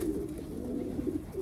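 A racing pigeon hen cooing close up, a low continuous throaty murmur with gentle pulsing over a quiet background.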